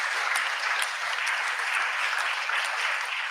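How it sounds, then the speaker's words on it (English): Audience applause welcoming the jury at a bioeconomy demo day, a steady, dense wash of clapping that holds evenly for the whole stretch. "another applause for them, just to welcome them for today"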